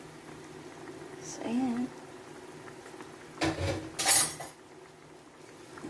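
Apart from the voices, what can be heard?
covering the cooking pot with its lid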